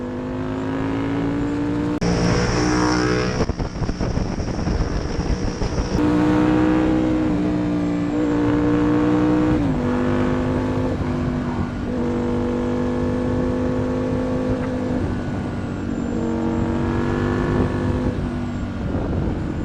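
A sport motorcycle engine roars continuously, its pitch climbing and dropping through gear changes as it revs hard, close and dominating the whole stretch.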